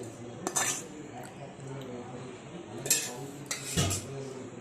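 A spoon scrapes and clinks against a metal vessel in a few separate bursts while rice is being mixed with raw mango paste, close by.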